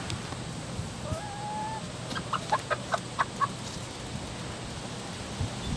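Chickens cluck in a short run of sharp, evenly spaced calls near the middle, over a steady background hum with faint distant sounds.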